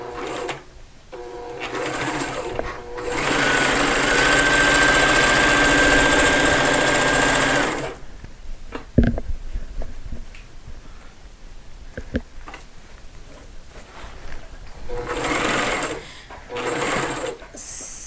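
A sewing machine runs steadily for a few seconds, stitching a seam on a dimensional piece near a zipper, with a couple of shorter bursts before and after. Pauses between runs hold faint handling clicks.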